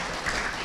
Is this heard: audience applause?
yes